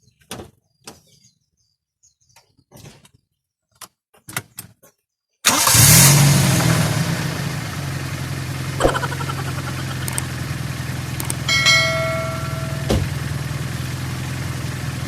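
A Toyota 2E car engine starting after a few faint clicks and knocks, cranking briefly and then catching into a steady, loud idle that runs on with a few small clatters and no talking.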